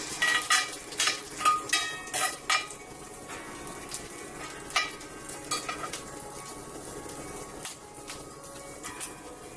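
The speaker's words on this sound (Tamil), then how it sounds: "இது வந்து இரும்பு கல்லுங்கிறதுனால இந்த மாதிரி சவுண்டு வருது." Green chillies and dried red chillies crackle and sizzle in a hot iron pan, with a burst of loud sharp pops early on that settles into steadier frying spattered with occasional pops.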